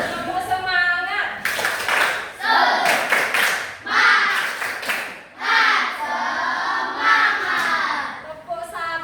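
Schoolchildren in a classroom perform a counting clap routine, bursts of unison hand claps alternating with excited shouting and kids' voices, loud and lively.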